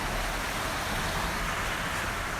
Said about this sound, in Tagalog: So umuulan ngayon mga kaibigan.